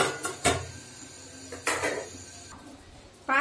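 Spoon scraping through white pulao rice in a cooking pot, a few separate clattering strokes near and fairly loud, with quiet pauses between them.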